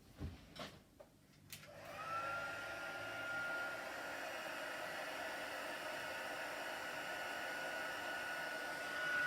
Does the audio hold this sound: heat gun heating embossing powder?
yes